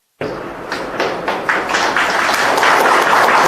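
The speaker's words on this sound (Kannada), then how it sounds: "ಚಪ್ಪಾಳೆ ಬೇಡ ಚಪ್ಪಾಳೆ ಬೇಡ" Audience clapping at a press conference, a burst of applause rising quickly and building steadily into a loud, continuous patter of many hands close by.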